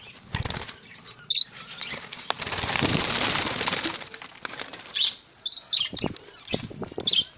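Budgies in a breeding cage, including a female on her first clutch of eggs, make loud, close bursts of fluttering wings and a few sharp, short chirps, with no talking.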